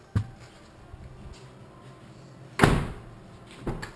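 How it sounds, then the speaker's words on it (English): A Toyota car door being opened and closed during a door repair, with a sharp slam near the middle and a softer thud shortly after, plus a faint click early on, in a quiet setting. "Now would be a good time to check the door and make sure it functions properly."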